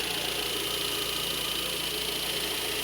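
A Fiat Palio engine idles quietly and steadily with a smooth, even hum and faint rhythmic pulsing, heard alone without any voices.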